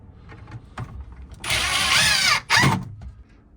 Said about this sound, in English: Let's put some screws in it real quick since we got one stuck on our drill.